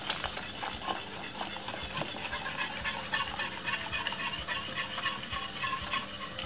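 Jamaican porridge being stirred in a pot, a spoon scraping and swishing through the thickening mixture in a steady, continuous rhythm with occasional clicks against the pot, close and moderately loud with no talking.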